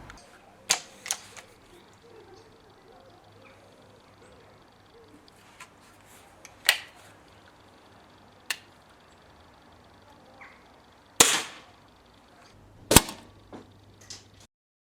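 A Gamo Delta Fox air rifle fires 8.1 grain Bisley practice pellets at a 14 cm square target about 12 metres away: sharp, isolated cracks spaced irregularly over quiet background.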